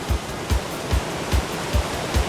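Rapids on the Zambezi River churn with a dense, steady rush of white water, and low thuds of waves pulse through it roughly every half second.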